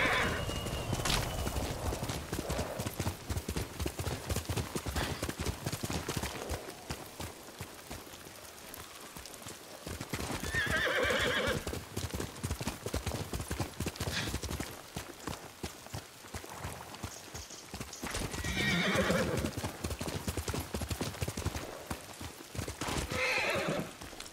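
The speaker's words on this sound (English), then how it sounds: "Good horse, Kage." Horse hooves clip-clopping at a gallop in the video game Ghost of Tsushima, steady and close, with loud whinnies rising over the hoofbeats around the middle and again near the end; light rain patters underneath.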